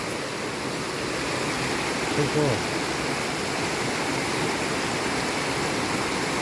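Water rushes steadily in a continuous broadband wash from a mountain stream flowing nearby under an iron footbridge, with a brief spoken word partway through.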